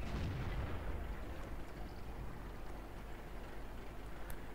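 Distant artillery fire in the World of Tanks video game, a soft rumbling boom that trails off into a low, continuous roar and steady battle ambience, with no talk.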